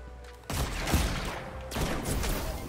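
Gunfire in the video game Destiny, including slug shotgun and sniper fire, comes as a dense, loud, continuous barrage of shots starting abruptly after a quiet moment and swelling again near the end.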